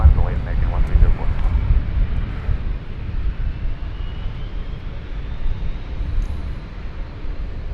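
An American Airlines jet takes off from DFW Airport bound for Guadalajara, Mexico, heard as a broad, rumbling engine roar that is loudest at first and then eases into a steady distant drone.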